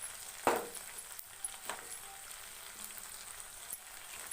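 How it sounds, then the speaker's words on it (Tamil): Onion, tomato and capsicum sauté in a pan for egg chilli, giving a faint, steady sizzle with a sharp stirring scrape near the start and a few soft clicks afterward. "இந்த வெங்காயம், தக்காளி, குடமிளகாய் இதெல்லாம் ஓரளவுக்கு நல்லா வதங்கிடுச்சு"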